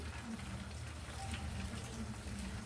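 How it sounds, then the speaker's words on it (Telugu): Tamarind water is poured into a simmering brinjal curry with coconut and cumin, giving a steady, soft splashing hiss that runs throughout without talk. "ఇప్పుడు చింతపండు నీళ్ళు పోసుకుందామండి."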